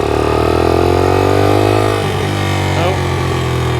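A 1982 Honda XL80S trail bike running while ridden on a road and into grass, its small engine droning steadily and close with a slight dip in pitch partway through, a voice talking over it.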